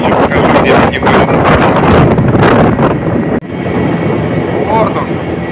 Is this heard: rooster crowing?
no